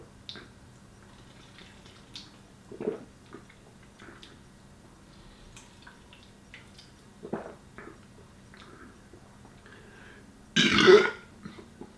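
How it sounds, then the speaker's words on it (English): A loud, long burp after chugging seltzer water bursts out near the end, following several faint small sounds over a quiet background. "That was a good burp."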